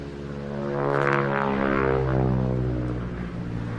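SNJ propeller trainer aircraft, the US Navy version of the Texan, passing at an air display, its engine droning loud and steady with a rising and falling pass and strong harmonic buzz, no talk.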